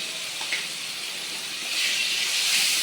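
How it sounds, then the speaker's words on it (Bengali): Ginger and garlic sautéing in a pan while cooking a village-style eggplant, radish and fish dish, a steady broadband hiss and sizzle that swells louder toward the end, with no talking. "আদা রসুনটা ভালো করে কষিয়ে নেব"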